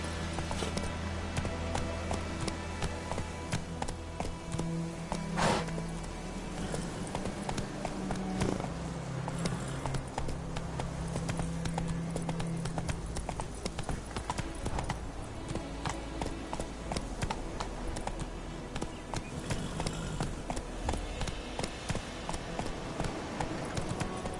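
Horse hooves clip-clop at a steady gallop in the video game The Witcher 3: Wild Hunt, a continuous rhythmic run of hoofbeats heard alone with game ambience behind it.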